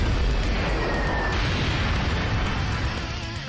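Rapid Gatling gun special attack from the mobile game Dragon Ball Z Dokkan Battle, a dense continuous roar of blasts and explosive bursts filling the whole stretch at high loudness, with no talking.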